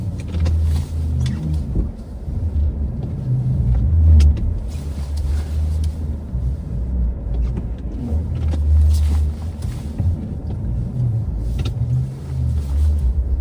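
A car turns around on a snowy Canadian backroad in winter, its engine giving a steady low rumble with slight surges as it maneuvers, heard from inside the cabin along with small creaks and knocks.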